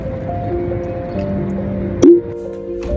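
Water is poured out into a container for birds in hot weather, with close liquid trickles and drips and a brief louder splash partway through.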